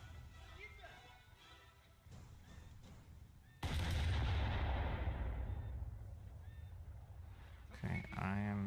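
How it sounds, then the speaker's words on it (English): A naval cruiser fires its main guns in War Thunder, a sudden loud boom midway through followed by a long rolling rumble that decays, with engine hum and radio-like chatter before it and a voice near the end. "Okay, I am shooting way too low for that."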